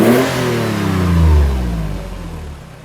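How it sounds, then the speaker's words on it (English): Toyota FJ Cruiser with a full Greddy exhaust system revving hard, a loud, close engine roar that climbs and then falls away over a few seconds, with no talking. "we also have a full Gredy exhaust system right here, which I'm pretty sure most of you guys would want to listen to this."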